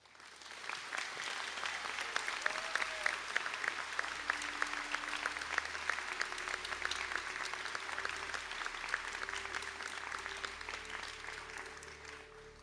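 Steady applause from a large audience fills a graduation conferring ceremony, continuous and even throughout with no talking over it.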